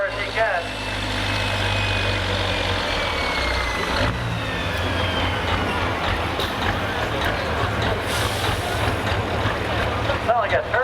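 A turbocharged diesel truck strains at a truck pull, a loud, steady low engine roar with a rising whine that holds throughout, close and continuous.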